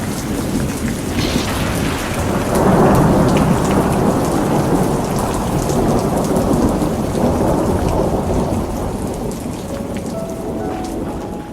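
A hurricane over Puerto Rico brings steady, loud, heavy rain with rolling thunder rumbling beneath it throughout, and no voices.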